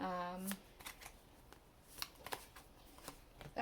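Tarot cards are shuffled by hand in a string of crisp riffling and flicking bursts, close and fairly quiet, with a person speaking softly at the start and end.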